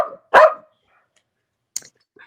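A dog barks in a home during an evening online broadcast: one loud close bark burst, with a brief softer yelp before it and a quick sharp yip after a pause.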